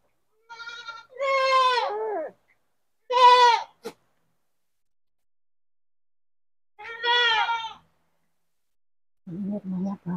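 Goats bleat outdoors near a remote forest village in Trenggalek, East Java: several loud, wavering calls close by with silent gaps between them, followed by a brief, lower voice at the end.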